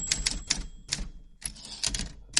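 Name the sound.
typewriter sound effect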